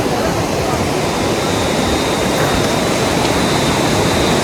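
Cold river water flows in a steady, loud rushing wash, close and unbroken.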